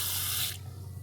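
Hot water from a campervan tap heated by a Truma 4DE heater, hissing and splashing close by, with a bright spray that drops to a softer steady flow halfway through.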